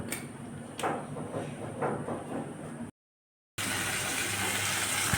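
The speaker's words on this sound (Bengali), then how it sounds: "ইলিশ মাছ, বরিশালের ইলিশ, সরিষার তেলে ইলিশ জাল হচ্ছে" Barishal hilsa fish fry in mustard oil with a loud, close, steady sizzle and faint crackling. The sound cuts to silence for about half a second, then the frying resumes just as strongly.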